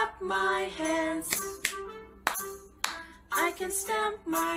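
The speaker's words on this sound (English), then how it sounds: "I can clap my hands, I can stamp my feet." Children clapping their hands during a goodbye song in a kindergarten English class, sharp claps in bursts over singing voices.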